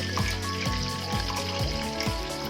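Ginger and garlic frying in two big spoons of hot oil in a pan, making a continuous loud, close sizzle with a faint rhythmic tapping or stirring pulse through it and no voices.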